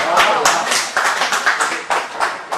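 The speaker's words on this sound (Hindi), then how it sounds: "शेर खत्म होने में ताली बजती है सर।" Audience clapping at a Hindi shayari poetry recital comes in uneven bursts of applause, fairly close and loud, rising and falling over a couple of seconds, with a voice speaking over it.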